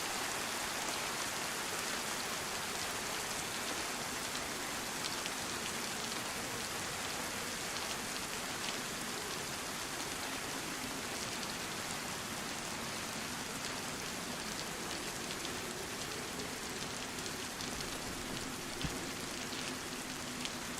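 Steady rain falling in the DayZ video game, a continuous even hiss of drops on surfaces with no voices, holding at a constant moderate level throughout.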